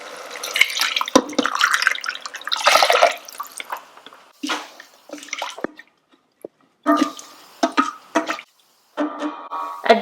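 Water pours and splashes in uneven bursts into an Instant Pot holding rice, with short trickles, drips and brief pauses between pours, close and fairly loud.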